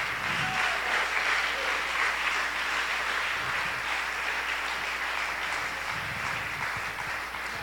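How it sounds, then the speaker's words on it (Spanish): A church congregation applauds steadily for several seconds, a dense, even wash of clapping from a sizeable crowd heard at moderate distance with no talk over it. "Denle un aplauso al Señor."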